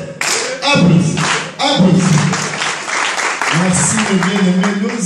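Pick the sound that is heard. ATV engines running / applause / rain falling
applause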